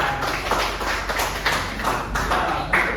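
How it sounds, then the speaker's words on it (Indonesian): A classroom full of people clapping steadily for a few seconds, dense overlapping claps with no voices standing out. "Berikan tepuk tangan untuk Maila."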